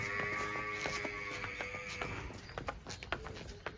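A mare's hooves clop in an uneven walking rhythm on hard ground, close by, with a faint whinny and some background activity.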